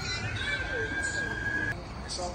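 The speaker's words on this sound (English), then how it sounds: "And there's sirens," A siren tone holds steady in the distance for over a second, then cuts out, while people talk and background noise continues throughout.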